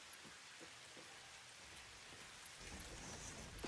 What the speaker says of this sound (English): It is raining pretty hard, though.